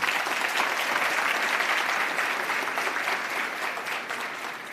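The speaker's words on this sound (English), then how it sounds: "I think he deserves another round of applause." Summit audience applause, a dense, steady wash of many hands clapping that tapers off slightly toward the end.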